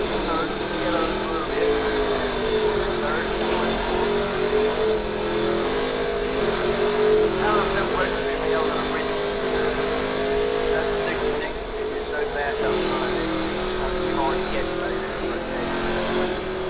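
Super late model stock cars race at Bristol Motor Speedway, their engines roaring and droning continuously in the distance while commentators talk over the noise.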